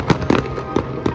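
Firecrackers explode in a quick series of four or five loud, sharp crackling bursts, close by and irregularly spaced.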